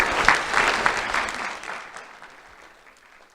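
An audience at a sheriff's office youth awards ceremony claps loudly at first, and the applause gradually fades away over a few seconds.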